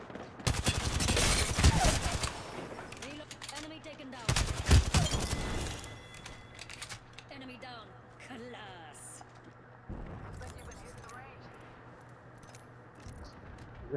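Gunfire in the video game Apex Legends: two loud, dense bursts of rapid automatic fire open the clip, followed by quieter scattered shots and game noises, while a person talks over the action throughout.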